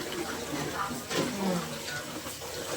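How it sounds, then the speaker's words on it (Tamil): Water heating to a boil in a pot for chicken biryani in a village kitchen, a soft continuous bubbling and hiss with faint background noise, fairly quiet throughout. "நல்லா பிரியாணிக்கு தண்ணி கொதிக்குது."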